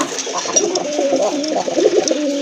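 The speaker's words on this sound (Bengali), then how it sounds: "এটা কিন্তু পিওর দেশি কবুতর, পুরান জাতের দেশি কবুতর" Native domestic pigeons of an old local breed, red and white, cooing close by in soft, rolling repeated coos that overlap and swell throughout.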